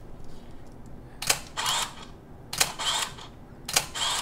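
A single-lens reflex camera shutter fires three separate times in single-shot mode, each a crisp, close mechanical clack-and-whir burst with quiet pauses between.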